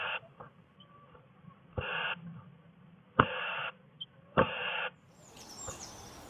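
Scratching and tapping at a blue tit nest box in a sycamore tree as a crow tries to force its way in, heard as four loud, close bursts of rough scraping separated by quiet gaps, with a sharp knock starting each burst.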